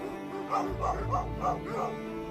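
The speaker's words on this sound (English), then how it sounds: "Cute dog." A dog gives a rapid series of five or six short, yappy barks, close by and fairly loud.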